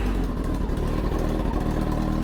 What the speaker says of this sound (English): I gotta start my bike up like this, and then start it.